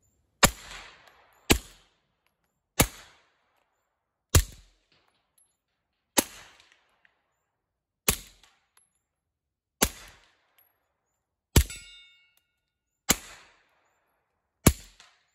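Ten suppressed pistol shots from an HK VP9 fitted with a SilencerCo Maxim 9 short, each a sharp, close crack with a brief tail, fired at a steady unhurried pace with gaps of one to two seconds.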